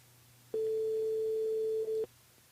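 A single telephone ring tone on a radio show's call-in line, one steady electronic tone lasting about a second and a half over quiet studio background, no talk.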